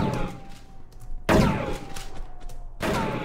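Gunfire in the video game Broke Protocol: two sharp, loud shot bursts with decaying tails, separated by a steady tonal hum and softer game ambience.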